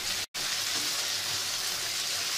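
Green peppers sizzling in a hot pan while cooking chicken shawarma: a steady, bright frying hiss, loud and close, with one brief dropout near the start and no talking.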